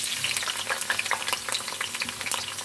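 Onion fries in hot oil in a home kitchen while collard greens are being prepared, giving off a crackling sizzle full of quick pops. The frying is steady and close up, with no talking over it.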